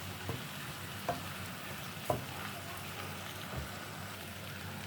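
Rice being stirred with saffron in a pot, a steady background hiss with a few soft, widely spaced scrapes and knocks of a spoon against the pot, close and fairly quiet.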